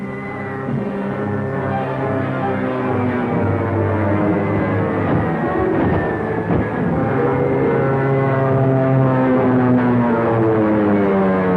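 A propeller airplane drones steadily overhead, its engine note loud and close, with the pitch sliding down and back as it passes, and no voices.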